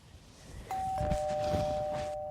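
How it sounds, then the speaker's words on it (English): A doorbell rings indoors as a single clear tone that starts abruptly and holds steady to the end, fairly quiet over faint room noise. "It's the doorbell that's ringing."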